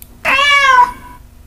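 A single loud, close cat meow plays as a sound effect from the Mouse Pointer Highlight cursor app, rising and falling for about half a second over near silence.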